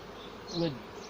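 Buckfast honey bees hum steadily around an open hive, a close, continuous buzz that swells briefly as one bee passes near, with no talk.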